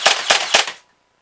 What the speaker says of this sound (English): let's go ahead and just shoot it for you guys real quick just to demonstrate the rate of fire